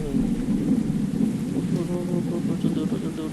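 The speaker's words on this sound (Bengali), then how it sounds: "এত জোরে বৃষ্টি হচ্ছে কেন" Heavy rain with rumbling thunder in Bus Simulator Indonesia, a game drive through a hilly area toward Kalimpong, forms a steady, loud low roar throughout, with faint voices mixed in.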